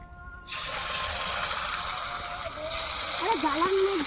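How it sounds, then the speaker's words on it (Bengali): Sliced potatoes rinsed in water, a steady running, splashing wash that starts abruptly and continues throughout, with a voice speaking over it toward the end. "আলু ভালো করে আমরা ধুয়ে নিচ্ছি আরেকবার ধুয়ে নেবো"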